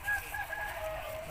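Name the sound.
aseel rooster crowing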